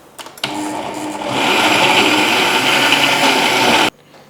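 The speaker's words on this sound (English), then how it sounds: "I'm going to blend the tomato and the tatashe." A countertop blender purees tomato and tatashe peppers for a bukka stew, its motor starting with a brief burst, then settling into a loud, steady whir for about three seconds before cutting off abruptly.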